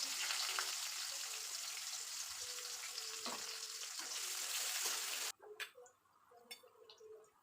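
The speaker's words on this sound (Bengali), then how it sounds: "পেঁয়াজ কুচি দিয়ে দিলাম" Chopped onions fry in hot oil with bay leaf, whole cumin and garam masala for a fish kalia, giving a loud, steady broadband sizzle for about five seconds that then drops to faint crackles and a few clinks.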